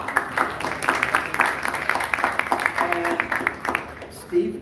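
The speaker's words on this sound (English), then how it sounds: "let's have a round of applause for Mary Jingle for serving as national chai" Applause from a crowd at a Libertarian convention, a steady patter of many hands clapping at moderate distance, fading toward the end with some voices under it.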